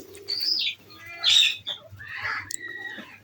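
Pigeons in a loft with many young birds give soft chirps and coos close by, broken by a few quick bursts of wing flapping over about three seconds.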